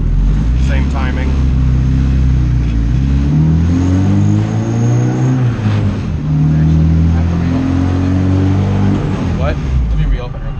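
A turbocharged Honda D16 engine revs hard on a dyno, its loud droning note climbing and falling through repeated sweeps, with brief dips between pulls and voices talking over it.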